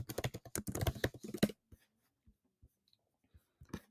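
Fast typing on a computer keyboard, a dense run of close, crisp key clicks for about a second and a half, then a few scattered isolated taps trailing off in near silence.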